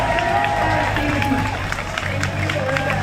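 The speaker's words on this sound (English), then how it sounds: "Let's give her a huge round of applause again." Outdoor crowd at a pre-march Dyke rally in Portland claps and cheers, a steady wash of applause and voices with hubbub underneath for the whole stretch.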